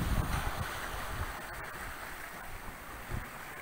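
Ocean waves crest and wash around a sailboat on the windward side in about 25 knots of wind. A steady broadband rush of water and wind noise carries a few low surges and no talk.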